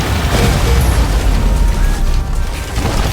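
Bomb explosions in the Risk of Rain 2 video game: dense, loud booming bursts that pile up continuously for about three seconds, with no talking.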